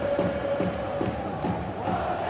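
Home supporters at the Hawthorns roar steadily during a West Bromwich Albion corner against Hull City, a dense, continuous crowd din with rising shouts and no clear breaks.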